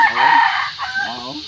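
A single close, loud crow from a fighting rooster, its drawn-out call rising then trailing off over about a second and a half.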